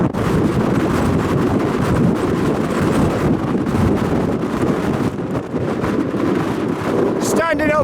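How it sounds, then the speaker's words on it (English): Strong wind roars and buffets the microphone on an exposed hilltop in the Scottish Highlands, a loud, steady rush with gusty surges throughout, and a voice speaks briefly under it. "Oh, it's very windy up here."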